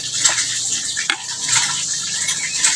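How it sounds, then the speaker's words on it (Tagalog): Splashing and bubbling water as a converted PCP air rifle, regulated and adapted from an Armscor CO2 gun, is dipped in water for a leak check; close, continuous sloshing with one sharper splash. "Ilublob natin ito sa tubig."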